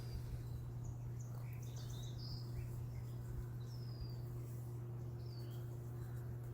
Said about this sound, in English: So lucky to have beautiful birds singing to us today.